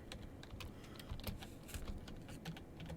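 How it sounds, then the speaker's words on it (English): Quick, continuous typing on a computer keyboard, with close, soft key clicks in an uneven rhythm and nobody talking. "So let me type that in really quick."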